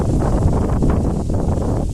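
Gusty outdoor wind buffets the microphone with a low, rumbling roar and rustling texture, steady and fairly loud for the whole moment.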